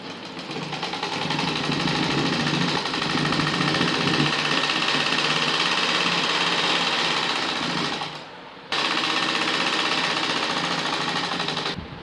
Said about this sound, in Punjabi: ਹੁਣ ਆਪਾਂ ਦੂਜਾ ਜੋੜ ਪਾਣ ਲੱਗੇ ਆ ਜੀ